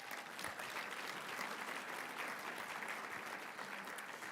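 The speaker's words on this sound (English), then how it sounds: "Let's give them a round of applause." Steady applause from a crowd, dense clapping that holds at an even level throughout without breaks.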